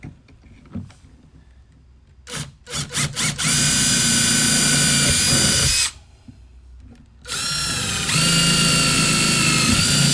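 A power drill drives screws into a Tracker Classic XL bass boat, starting with short trigger bursts and then running in two long, steady whining stretches with a brief gap between them, close and loud.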